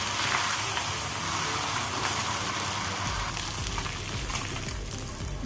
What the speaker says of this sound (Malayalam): രണ്ടാമത് നമുക്ക് ഫ്രൈ ചെയ്തെടുക്കാം നമുക്ക് തിരിച്ചിട്ട് കൊടുക്കാം